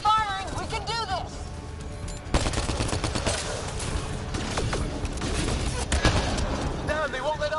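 Firefight gunfire in the video game Mass Effect Andromeda, dense bursts of rapid shots and sharp cracks layered over one another, loud and nearly continuous, with shouting voices heard between and over the shooting.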